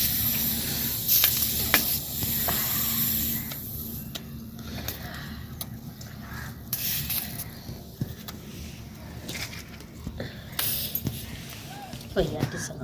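Whole tomatoes roast over a village stove fire for chutney, giving a steady, soft, airy hiss with occasional crackles and pops. The sound is fairly faint, with some background voice or noise around it.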